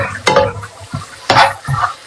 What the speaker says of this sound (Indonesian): Aduh, tumis buncis ya.